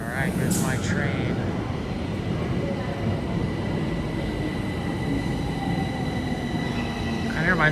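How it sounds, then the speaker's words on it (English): A Bucharest metro train pulls into an underground station with a loud, continuous rumble and rising tonal whine from the wheels and motors, with a few squeals at the start and end. "All right, here's my train."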